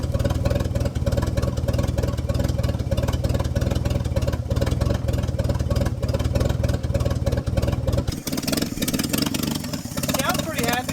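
An old Chevy C10 truck engine, left sitting for decades, runs with a steady, even rumble up close for several seconds before the tone shifts abruptly, with louder rattling bursts near the end.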